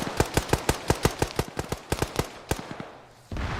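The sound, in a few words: machine gun fire in Arma video game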